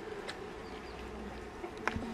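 Honey bees swarming around an open five-frame hive give a steady, low buzzing drone, with a few sharper passes of individual bees flying close, and no one speaking.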